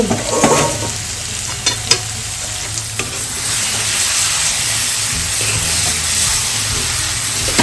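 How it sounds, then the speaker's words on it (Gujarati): Dry vegetable curry being stirred and mixed in a pan: a steady close sizzle runs throughout, broken by a few sharp spoon scrapes and clinks against the pan early on. "સૂકી ભાજીને સારી રીતે આપણે મિક્સ કરી દઈએ"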